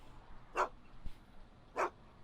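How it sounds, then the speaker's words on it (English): Two short, faint dog barks from the Back to the Future video game on Xbox One, spaced about a second apart over a soft background hum. "Why couldn't Doc have invented a dog translator?"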